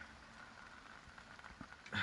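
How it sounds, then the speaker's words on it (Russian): Light rain patters on a fishing umbrella outdoors at a night fishing spot, a soft, steady hiss with scattered drops and a slightly louder tap at the end. "У нас дождь шмалит."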